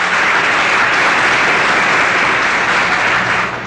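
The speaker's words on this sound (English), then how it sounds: "A round of applause, please, for candidate number 12" A pageant audience applauds a candidate, dense steady clapping throughout, loud and close, with no talk over it.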